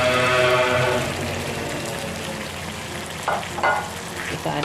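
Long beans tossed into a pan of frying red chili sambal, giving a loud, steady sizzle with stirring scrapes that ease slightly after the first second, plus a few sharper clatters near the end.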